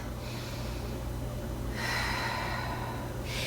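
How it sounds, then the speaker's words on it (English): A person doing yoga in a half moon flow takes slow, audible breaths, with a long airy inhale and exhale near the start and another around the middle, close and soft over a quiet background. "And one more breath in and out."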